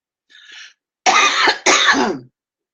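A short throat-clearing sound followed by two harsh, loud coughs in quick succession, close to the mic, with silence after.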